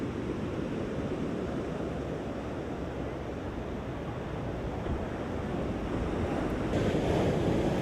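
Sea waves make a steady, dense roar of surf mixed with wind rumble, loud and continuous throughout, with no voices.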